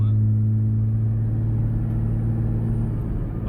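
A 1993 Honda Del Sol engine runs with a loud, steady low drone and rumble, holding an even pitch throughout with no talking.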